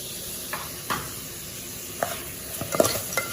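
Pork curry with spices stirred in a pan: a low ongoing sizzle with a handful of scraping spoon strokes and a soft clatter near the end, close and fairly quiet, without speech.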